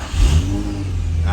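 A 2005 Infiniti G35 engine cranks and catches, then revs up loudly and settles into a steady, strong running hum close by, with no talk.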